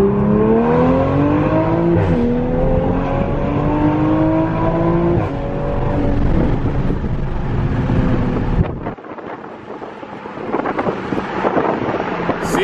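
An inline six car accelerating hard, its engine note rising through several gear pulls under heavy wind buffeting before dropping away into rushing wind noise.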